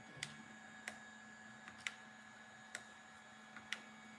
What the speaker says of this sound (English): So the printer, the Easythreed is still going.